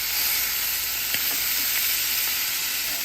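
Second batch of food, with onions and butter added, sizzles steadily in a hot pan, a continuous close frying hiss with faint crackles and no talk.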